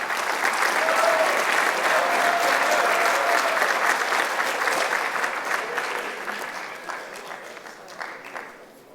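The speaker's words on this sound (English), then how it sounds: "Round of applause" Steady audience applause at a leadership symposium talk, dense clapping that holds strong then gradually tapers off toward the end.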